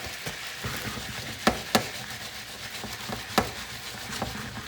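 Peppers and potatoes cook together in a pan with a low, even sizzle and a few sharp clicks from a utensil, nearby and without talk.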